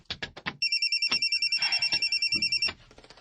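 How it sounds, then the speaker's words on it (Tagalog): A cellphone rings with a rapid, loud electronic trill lasting about two seconds, preceded by brief bursts of speech and followed by quiet room noise. "ang imong cellphone nga nagsigi og bagting"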